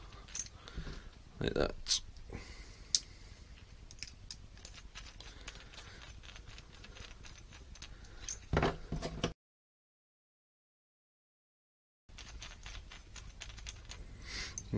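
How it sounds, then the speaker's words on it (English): Small screws being driven by hand into the arms of a ZMR 250 quadcopter frame, close small ticks, clicks and scrapes of metal and plastic, with a brief spoken remark near the end. "get your screws, and just screw that into the arms"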